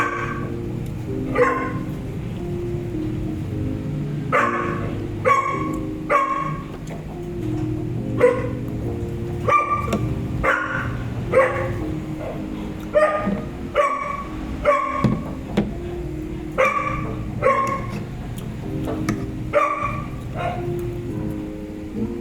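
A dog barks repeatedly in short bursts over a steady low hum, the barks fairly close and coming in irregular clusters.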